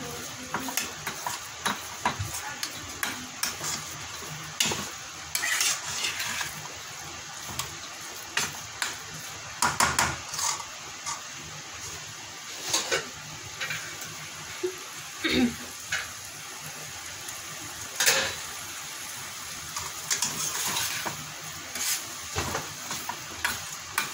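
Gujiya filling roasts in a pan while a spoon stirs and presses it, making a soft steady sizzle broken by repeated sharp scrapes and taps of metal against the pan.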